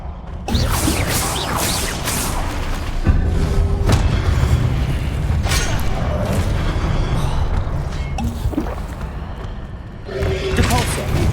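Confringo explosive spell in the video game Hogwarts Legacy, loud booming blasts with sharp attacks recurring over eleven seconds amid rumbling combat noise and whooshes.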